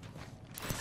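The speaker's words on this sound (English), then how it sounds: "Reloading." A weapon reloads in the shooter game Apex Legends with quick faint mechanical clicks and a short metallic clack near the end, all over in under a second.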